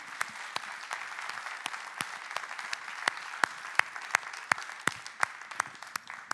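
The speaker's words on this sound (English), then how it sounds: "I think we should just give them a round of" Sparse applause from a small audience at a culture summit in Abu Dhabi, individual claps standing out as sharp, fairly regular snaps over a soft, low background.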